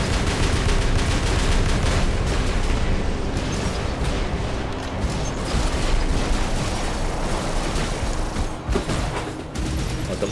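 Robot battle gunfire from the PC game War Robots in a Beacon Rush match on the Skyros map: dense, continuous volleys and blasts roar without pause, loud and close.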